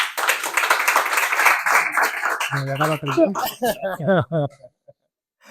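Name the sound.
audience applause for a speaker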